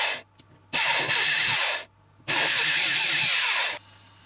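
A drill bores a hole into the wall of a Samsung refrigerator during repair, in two sustained, loud bursts of whining, hissing noise of about a second and a half each, separated by a short pause, with no talking.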